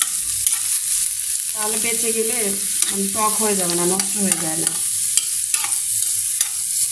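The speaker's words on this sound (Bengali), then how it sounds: "মানে দেওয়ার জন্য যে পেঁয়াজ সেটা আমি ভেজে নেব" Onions fried in oil for potato bhorta, stirred in a pan, give a steady close sizzle with scraping stir strokes throughout, while someone talks over the cooking.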